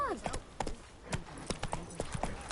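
Hooves of Roach, a horse in the Witcher 3 video game, clip-clop in a steady walking rhythm, moderately close, with a voice talking over them.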